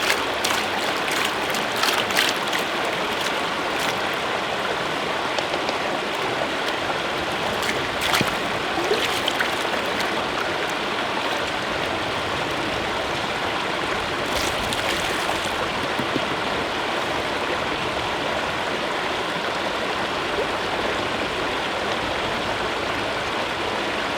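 Steady, continuous creek water flowing over bedrock at a gold-prospecting spot, a full rushing wash with occasional splashy bursts, close and alone with no talk.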